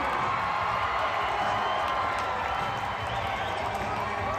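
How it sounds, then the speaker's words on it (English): A large stadium crowd at a Monster Jam truck show cheers and applauds, a loud continuous roar of mixed clapping, shouts and whoops that holds steady throughout. "so give him a great round of applause"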